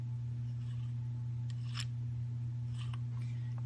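Metal linkage on a TC-45 submachine gun is pulled, giving a few faint mechanical clicks and scrapes over a steady low electrical hum.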